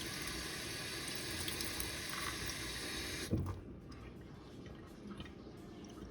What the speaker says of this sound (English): we'll run this under some water to see if we have any ink coming off